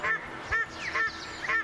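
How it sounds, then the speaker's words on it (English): A paradise duck calls with four loud, nasal honks spaced about half a second apart, close by and clear over a faint background. "Good-looking duck, aren't they? The paradise duck."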